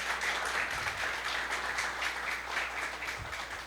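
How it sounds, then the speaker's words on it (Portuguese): An audience gives a round of applause for Silaine at a church youth discipleship gathering, a steady wash of clapping that holds for several seconds at moderate level. "salve de palmas para Silaine"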